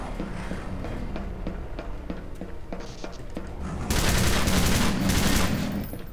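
Rapid gunfire in the shooter game E.Y.E. Divine Cybermancy, a string of sharp repeated shots that gives way to a denser, louder burst of fire and explosions toward the end.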